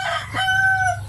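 A native rooster crows once, a short, fairly close call with a rising then sustained tone over steady low background noise, no speech.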